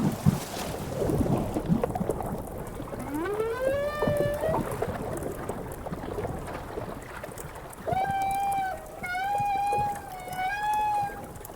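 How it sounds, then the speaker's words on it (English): Southern humpback whale song echoes through open water as two long phrases: a rising, swooping moan, a pause, then sustained wavering tones, loud and resonant over a soft wash of water noise. "Even while it rolls and plays, the song keeps booming out."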